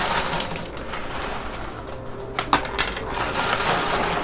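In a high-limit casino coin pusher, a wall of casino chips and coins collapses and tumbles, giving a continuous metallic clatter and jingle with a few sharper clinks standing out partway through, loud and close.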